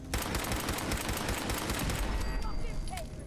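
An automated turret in Fallout 4 firing in a fast, relentless burst of shots, loud and close, with speech briefly audible near the end.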